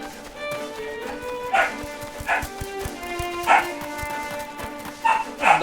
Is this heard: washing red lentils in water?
no